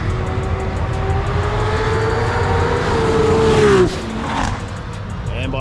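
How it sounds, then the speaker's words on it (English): A Toyota Supra making over 1100 horsepower races a BMW hatchback at a roll racing event in Sydney, engines droning loudly and steadily with a rising pitch, before the noise drops off abruptly near the end. "Mr. Yarwood's Supra coming around versus a BMW hatch"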